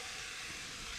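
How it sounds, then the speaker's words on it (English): Oil sizzling in a hot paella pan, a steady, bright hiss that holds evenly throughout, close and loud with no talk. "now you can hear that wonderful sizzle."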